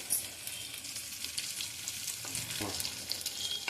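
Sliced onion, crushed garlic cloves and dried red chilies fry in a pan, a soft continuous sizzle with faint scraping, quiet and close, and no voices.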